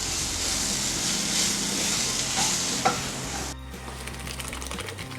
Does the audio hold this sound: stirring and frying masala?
yes